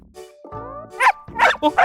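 A small dog yips and barks a few times in a short, sharp burst, close by.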